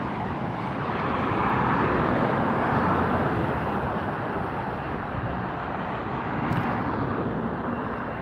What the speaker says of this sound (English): Next arrival is going to be another Southwest coming in from Sacramento.